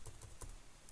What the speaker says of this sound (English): Here, I would like to type my password here.